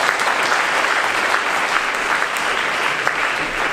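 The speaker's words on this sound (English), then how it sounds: "Give them a nice round of applause." Steady audience applause at a mentalist stage show, a dense even patter of many hands clapping throughout, moderately loud with no talking.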